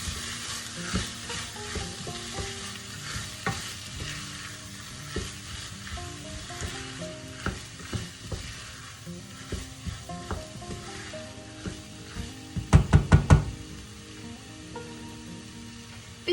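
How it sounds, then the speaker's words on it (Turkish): Boiled, drained green lentils are stirred in a hot frying pan, with a soft sizzle under regular spoon scrapes and knocks. A quick burst of louder clanks comes near the end. "haşlayıp süzdüğüm mercimekleri ilave ediyorum. Şöyle karıştıralım."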